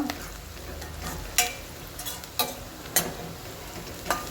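Whole spices and a small cinnamon piece stirred in a pan over low heat, several sharp scraping clicks of the spoon against the pan over a quiet sizzle.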